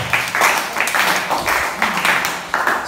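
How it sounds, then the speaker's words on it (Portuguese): A church congregation claps in praise, a loud burst of applause from a youth gathering with uneven rhythmic clapping filling the room. "Quem pode dar um aplauso para o Senhor Jesus?"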